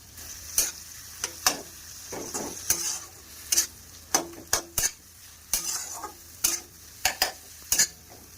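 Fish roe sautéing in oil with turmeric and salt in a pan, a continuous sizzle broken by repeated sharp scrapes and clinks of a utensil stirring against the pan, close and fairly loud.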